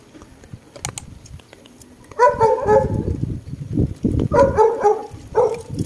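A dog out in the rain in the Philippines barks several times in short bursts nearby, with faint tapping and clicks before the barking starts.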